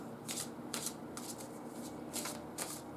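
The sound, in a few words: shuffling a deck of tarot cards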